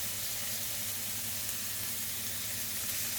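Food frying in a hot pan, a steady close sizzle and hiss with no break and no talking.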